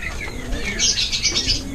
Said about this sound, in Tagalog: Yung mga parakeets natin dito